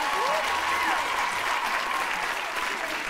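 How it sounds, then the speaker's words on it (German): A studio audience at a German TV game show applauds, loud and dense clapping sustained evenly across the whole moment with a faint tonal sound underneath. "Einmal Applaus!"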